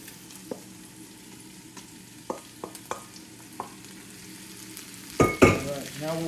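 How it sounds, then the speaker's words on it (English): Diced onions sautéing in a pan for Puerto Rican pepper steak, a steady low sizzle with a few sharp spatula scrapes and clicks, then a louder stirring burst near the end. "let's give that a good saute"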